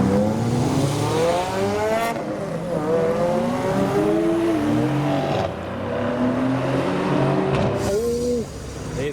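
Koenig Testarossa leaving a retro car meet, engine revving loud and close in repeated rising pulls, with busy traffic and bike noise around it.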